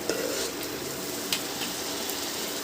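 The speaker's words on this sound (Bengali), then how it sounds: "দিয়ে মশলাটা আমি ভালো করে কষিয়ে নেবো" Spice masala with tomato sauce frying in a pan for a dhaba-style egg curry, giving a continuous close hiss of sizzling with a few sharp spoon clicks and scrapes, no voices.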